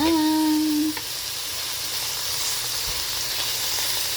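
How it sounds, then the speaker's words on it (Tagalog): Pork fat sizzles steadily as it renders in a pan for a dish of pork with jackfruit, a constant close hiss that runs without pause after a brief tonal beep at the start. "Pamantikain natin yung taba ng baboy."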